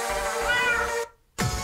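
A cartoon cat meows in the Techno Kitten Adventure video game, one drawn-out tonal meow followed by a brief silence and the start of another, clear and close.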